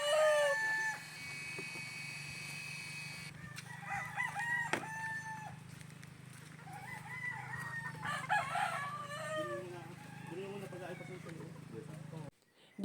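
Cockerels newly moved into a hut crow loudly and repeatedly at close range, with softer clucking and calls between the crows and a steady low hum beneath.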